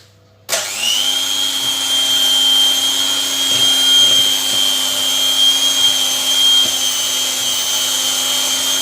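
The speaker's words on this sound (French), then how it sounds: "Mon batteur il marche encore." An electric hand mixer's motor runs as a loud, steady high-pitched whine. It starts abruptly after a brief moment of quiet and holds constant, alone with no talking.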